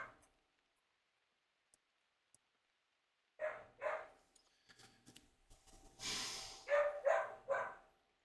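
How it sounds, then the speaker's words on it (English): A dog barks in a few short bursts at mid distance at a man in a workshop, with faint shuffling and breathing sounds between them and no talking. "So you hear Sally's barking at Uncle Paul, who's in the shop doing something."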